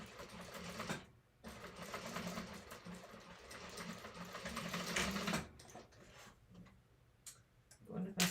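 A sewing machine stitches a second line of seam through thick vinyl for a sling bag, running in steady bursts with a rhythmic mechanical ticking and a short pause early on. Voices murmur faintly in the background.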